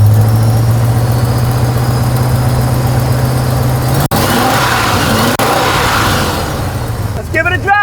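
The engine of a 1965 Ford F-250 runs loud and steady nearby with a low rumble, and a light ticking sound sits within it as the tone shifts partway through.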